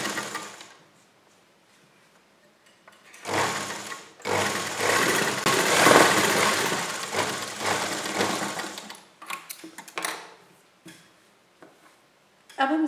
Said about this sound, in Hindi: हम इस पर मशीन से सिलाई ही लगाएंगे